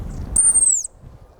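A hunting whistle with its reed removed imitates a song thrush call in the Gard countryside, giving one sharp, high, slightly falling whistle of under half a second, close and clear over quiet background.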